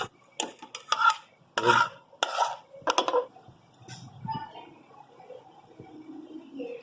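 Talbina is scooped out of a pot into a dish with a run of close, rhythmic spoon scrapes and stirring strokes, which then thin out into softer, scattered rubbing sounds.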